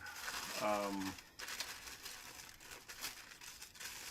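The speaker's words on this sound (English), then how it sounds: "they will kind of crumple it up like that and then put it in the bag" Tissue paper being crumpled up by hand before it is stuffed into a candy bouquet bag, a steady crinkling rustle that runs throughout, close and fairly quiet, with a brief voice near the start.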